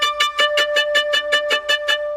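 A violin bowed with short, bouncing strokes in a deliberately dirty, unfiltered tone, about ten evenly spaced scratchy notes on a steady pitch, close and clear with no talking.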